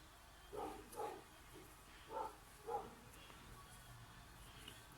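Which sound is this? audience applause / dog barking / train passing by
dog barking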